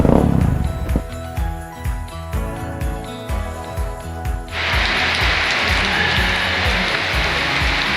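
Sudden heavy rain on arrival at a roadside durian-eating stop on a motorcycle trip, bursting in halfway through as a loud, dense wash of noise after a stretch of clicking, ratcheting mechanical sounds.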